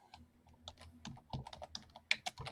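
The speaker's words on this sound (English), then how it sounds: "I should mute myself while I'm typing" Typing on a computer keyboard, close and fairly quiet, with irregular clusters of crisp key clicks and a few heavier thumps, heard alone without speech.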